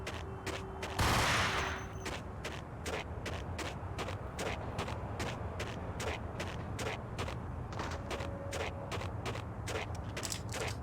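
Rapid gunfire in the Max Payne video game, a dense run of evenly spaced sharp shots over a steady mechanical background, with one louder burst near the start and no talking.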